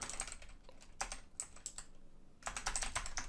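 Bursts of clicky keystrokes on a computer keyboard, close and fairly quiet, in irregular clusters with a short pause before a faster final run.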